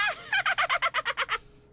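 Polly the parrot in the Nancy Drew game The Curse of Blackmoor Manor lets out a rapid string of about nine loud, evenly spaced squawking calls that rise into a rattling, gobble-like burst, with no talk over it.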